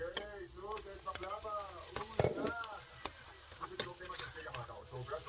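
Beef sizzles and crackles in melted butter in a pan for a beef stroganoff, with a steady soft frying hiss beneath someone talking throughout and a brief louder clatter partway through.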